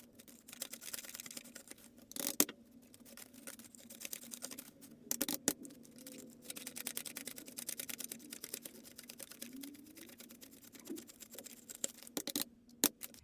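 Korean won banknotes from a cash savings challenge counted by hand, giving quiet, rapid papery flicks and rustles in a steady patter with no talking.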